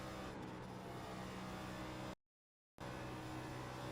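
Next Gen stock car engine in a racing simulator at Darlington, a steady loud roar with a short throttle blip, interrupted briefly by a silent gap before the drone resumes.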